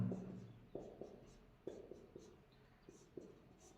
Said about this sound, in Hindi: एक शब्द लिखता हूं मैं